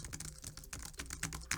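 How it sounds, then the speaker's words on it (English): Rapid, uneven keystrokes rattle on a compact 60% mechanical keyboard with brown switches, quiet and close, with no one talking over the clacking. "You can hear it's got that clickiness that everybody wants a mechanical keyboard for"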